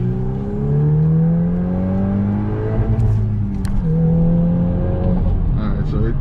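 Car engine revving hard and cutting out repeatedly on a two-step limiter, loud close rising harmonics that abruptly drop and restart, with a brief crackle between pulls.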